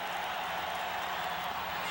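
A packed stadium crowd at the 1985 World Series Game 7 between the Kansas City Royals and St. Louis Cardinals roars steadily, a dense wash of cheering and clapping with no single voice standing out.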